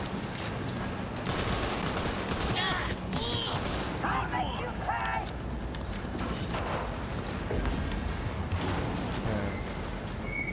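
Gunfire in the video game Cyberpunk 2077, with rapid shots and bursts layered over busy combat noise, steady and loud, with a player's voice talking over the action.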